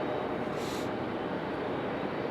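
A JetBlue airliner taxiing at Raleigh-Durham airport gives a steady, dense broadband roar from its engines, loud and unbroken throughout with no voices.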